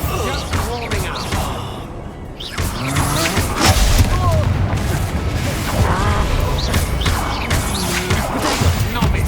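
Bombarda spell blasts in the Hogwarts Legacy video game, a loud booming explosion with crashing debris and whooshes amid ongoing combat effects, with a character's voice shouting over the noise.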